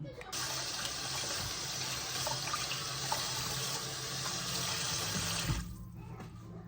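A kitchen tap runs in a steady, close hiss for dish washing, then shuts off and leaves near silence.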